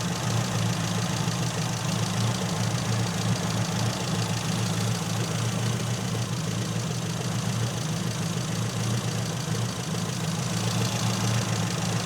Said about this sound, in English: As soon as I heard the engine starting to stumble